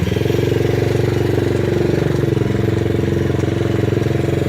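A pit bike engine runs steadily up close during a test ride, with a loud, even, rapid putter.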